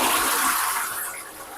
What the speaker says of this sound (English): Let me flush that down.